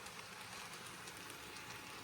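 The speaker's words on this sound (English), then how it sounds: "Let's get another shot of the train going across that bridge with the light reflecting on the water." A faint, steady rolling hiss and rattle of a model train moving across a bridge, continuous throughout with no voices.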